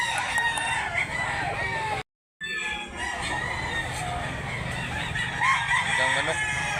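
Chickens cluck steadily with a rooster crowing nearby at a market in Mantalungon, Barili, Cebu, dense barnyard noise broken by a brief dropout partway through.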